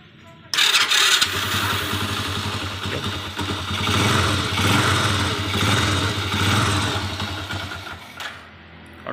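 A motorcycle engine with a newly fitted magneto stator and cover starts abruptly and runs steadily at a loud, close idle with a low throbbing hum, then cuts off near the end.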